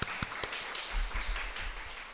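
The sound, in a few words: congregation applause after a mission report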